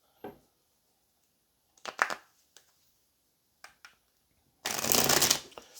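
Tarot cards being handled, with a few soft taps and flicks, then a loud, close riffle-shuffle burst of the deck near the end, nothing else heard.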